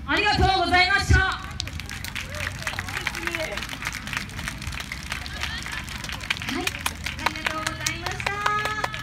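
Audience clapping and cheering after a YOSAKOI dance performance at the 2019 Shizukuishi festival, a dense burst of applause at the start settling into steady crowd noise and babble, with music-like tones and an announcer's voice over it.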